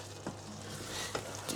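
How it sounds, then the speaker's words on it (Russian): Sauce simmers and sizzles in a pan with a steady low bubbling hiss, close and quiet, with a few soft stirring scrapes, no talk. "Итак, соус у нас хорошо здесь кипит."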